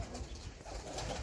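Tame racing pigeons kept alongside quails coo softly at close range, a brief, faint, low murmur over quiet background hiss.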